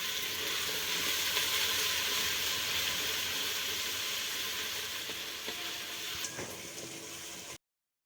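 Steady, close sizzling of frying in about two cups of oil for a carrot and tomato dish, an unbroken crackling hiss that runs evenly and then cuts off abruptly, with no voices.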